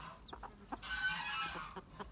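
A chicken clucks in short bursts, close by, with a longer squawking call in the middle, in a village.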